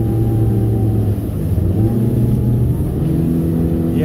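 Outboard engine on a 2021 North River Seahawk 22 boat revs loud and steady through a turn, its pitch rising and wavering as the propeller blows out, with constant engine roar throughout.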